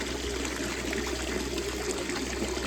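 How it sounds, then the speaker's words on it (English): An outdoor garden water fountain, dirty at the end of the season, gurgles and trickles steadily close by, a continuous wash of running water with no voices. "And now it's gurgling."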